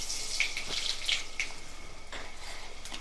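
Panch phoron spices sizzle and crackle in hot oil in a rural kitchen, a steady soft frying hiss with scattered sharp pops close by, and no talking.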